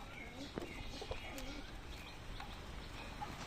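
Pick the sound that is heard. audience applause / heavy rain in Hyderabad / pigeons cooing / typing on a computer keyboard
pigeons cooing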